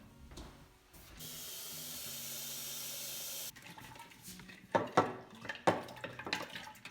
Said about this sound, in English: I'm going to mix in cold water until I get to the temperature I want to get